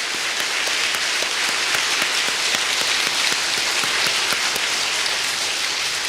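An audience at a Korean peace-themed gathering breaks into steady applause, a dense, even patter of many hands clapping at constant loudness, resembling heavy rain, with no voices over it.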